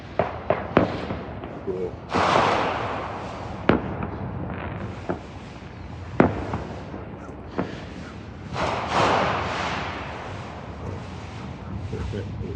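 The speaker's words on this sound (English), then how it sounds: "Checking out the fireworks," Fireworks burst outdoors in sharp separate cracks and booming explosions with crackling tails, some near and loud, spaced irregularly, while people talk briefly between them.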